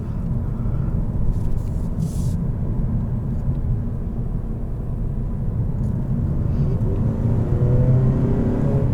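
Engine of a 2020 Mazda 3 hatchback, not turbocharged, heard from inside the cabin as it accelerates: a steady low rumble and whir that holds continuously, with the pitch rising slightly near the end.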